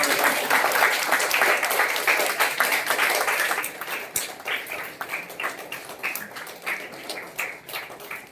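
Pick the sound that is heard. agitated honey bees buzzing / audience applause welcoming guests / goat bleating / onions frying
audience applause welcoming guests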